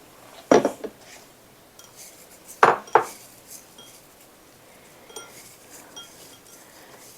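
A bowl is taken out among dishes in a quiet kitchen, giving a sharp clatter of ceramic clinks, then a pair of close knocks and faint scattered clinks.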